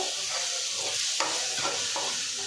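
A spoon stirs turmeric and chili powder through sizzling contents of a pan for Chettinad chicken chukka, steady frying hiss with scraping strokes recurring every second or so, close and alone.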